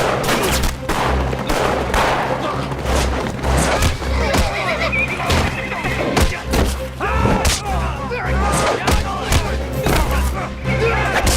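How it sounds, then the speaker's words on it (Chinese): Japanese cavalry horses charge in a war-film battle, with whinnies and dense thudding hooves mixed with bursts of gunfire, a loud, continuous and crowded din. "报告局长，有一股日军骑兵正向我军部冲来"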